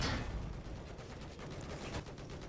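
Dense rapid gunfire from Battlefield 4 gameplay rattles on continuously, loud and close, with bursts overlapping into a sustained barrage.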